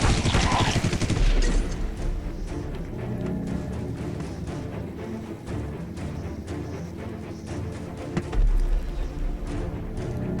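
Gunfire in The Walking Dead: No Man's Land video game, a dense flurry of shots at the start, then a steady spread of softer shots and thuds over game sounds, with a louder burst near the end.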